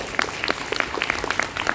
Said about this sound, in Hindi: एक बार जोरदार तालियां हमारी आईटी टीम के लिए हो जाए।